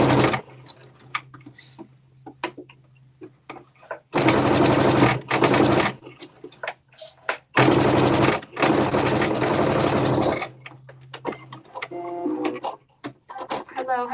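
A sewing machine stitches in the ditch on shorts made from a KnowMe ME2069 pattern, running in several loud bursts of one to three seconds separated by pauses, with a low hum and some talk in between.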